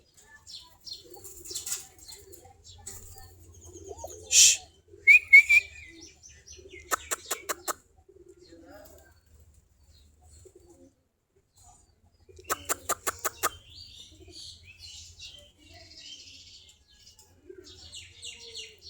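Native Giribaj pigeons in a loft, with soft cooing, scattered chirps and a few sharp bursts of wing flapping, some birds bathing nearby; a faint voice appears briefly.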